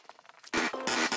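A gun magazine being reloaded in Rainbow Six Siege, first a few light clicks and then a loud, close burst of metallic scraping and clacking lasting about half a second.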